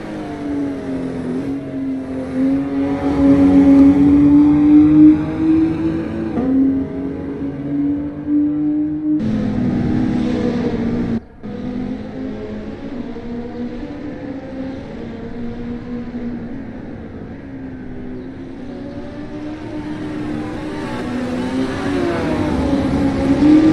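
Race car engines in an NZ SuperLap virtual racing league sim race, including a Toyota, drone steadily for the whole stretch, with a shifting pitch that climbs near the end and a brief drop in level around the middle.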